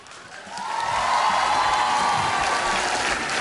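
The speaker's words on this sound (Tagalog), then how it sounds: "Wala bang palakpak?" A studio audience at the Eat Bulaga variety show in the Philippines breaks into broad, steady applause that swells after half a second and holds loud, with faint cheering mixed into the wash of clapping.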